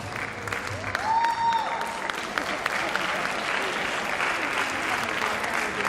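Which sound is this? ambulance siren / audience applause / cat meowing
audience applause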